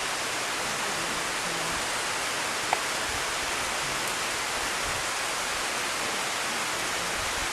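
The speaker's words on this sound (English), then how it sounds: "You will see a waterfall at this table." Waterfall on St. Lucia heard as a steady, broad rushing hiss of falling water, constant and moderately distant, with no talk.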